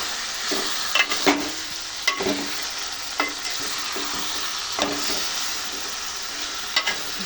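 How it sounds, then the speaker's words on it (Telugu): Chicken pieces are stirred into a curry frying in a pan, with steady sizzling and bubbling broken by repeated scrapes and clacks of the spoon against the pan. "ఇందులోకి మనం చికెన్ వేసుకోవాలి. దీన్ని మంచిగా కలుపుకోవాలి."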